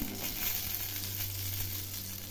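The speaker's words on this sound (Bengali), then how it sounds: "এরকম ঘুরিয়ে ফিরিয়ে ভেজে নেব।" Stuffed brinjal slices frying, with a steady close sizzle over a low hum, as the pieces are turned and light scraping comes through.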